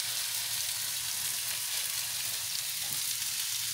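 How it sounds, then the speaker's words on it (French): A potato galette fries in a pan over medium heat, giving a steady, close, even sizzle with no pauses and no voices. "Vous mettez à feu, vous surveillez en fait. Il faut à peu près 15 minutes de cuisson. C'est de la pomme de terre, hein."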